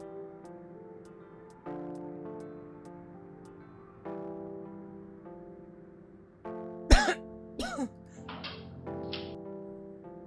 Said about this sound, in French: Parce que tu tousses.